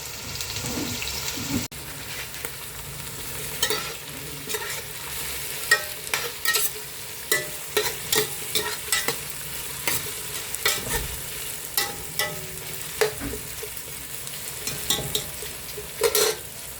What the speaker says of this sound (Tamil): இப்போ கிண்டி விட்டுக்கலாம் எல்லாத்தையும். இப்போ இதெல்லாம் வதங்கி வரட்டும்.